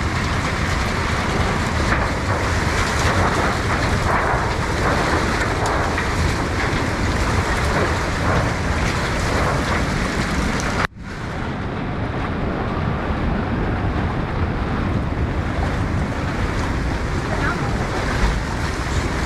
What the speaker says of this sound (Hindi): घर के अंदर पूरा पानी घुस चुका है।